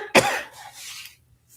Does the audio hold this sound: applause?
no